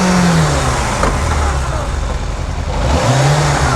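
Engine of a 1998 Yamaha YZF600R Thundercat motorcycle running loudly and steadily after being shifted into first gear during transmission repair, with a mid-pitched drone and rising revs near the start and end.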